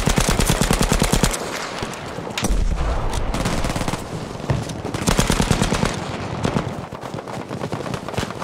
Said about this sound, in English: Machine gunner! There!